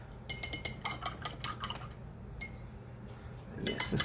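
A paintbrush is rinsed in a water jar during art journaling, giving a series of quick clinking taps and sloshes, then a louder burst of swishing near the end.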